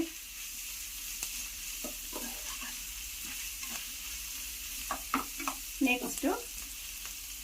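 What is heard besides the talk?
vegetables stir-frying in a pan for egg fried rice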